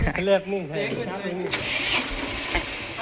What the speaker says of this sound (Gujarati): હા ભાઈથી ટ્રેક્ટર સલ્લું નથી થતું